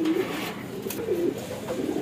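Shirazi pigeons kept at a home loft coo in soft, low, throaty pulses, several overlapping calls close by, with no talking.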